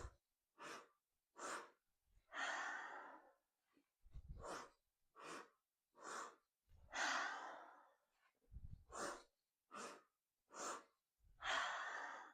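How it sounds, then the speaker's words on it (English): Breath of joy yoga breathing exercise: a series of rhythmic sharp inhales in quick bursts followed by long forceful exhales, repeated in cycles, close and clear with no talking. "let's do about 5 breath of joys"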